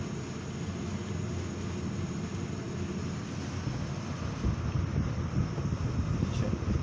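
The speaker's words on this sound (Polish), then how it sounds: "No i dobra, widzicie, nagrzewnica działa." A repaired gas heater runs in a garage, giving off a steady low roar and hiss that stays constant at a moderate, fairly distant level with no talk over it.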